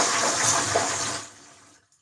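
A toilet is flushed up close: a loud rushing gush that drains away and fades to quiet within two seconds, with no voices.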